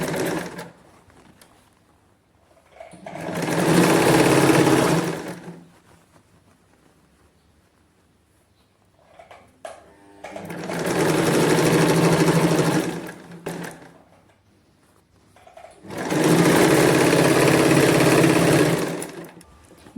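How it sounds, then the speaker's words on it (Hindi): A sewing machine runs in three separate bursts of a couple of seconds each while stitching a katori blouse, with quiet pauses and light handling of fabric between runs. "हमने यहाँ पर लास्ट में नीचे एक सिलाई लगा देनी है"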